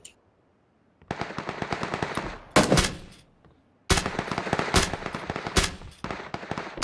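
Bursts of rapid automatic gunfire in the battle royale game Battlegrounds, loud sharp volleys separated by brief silences, with a few heavier single shots cutting through.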